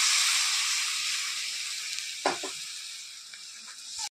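A paste of ground cumin, coriander, ginger, chilli and turmeric sizzles in hot oil in a pan, a loud bright hiss that slowly fades, with a few soft stirring knocks near the end.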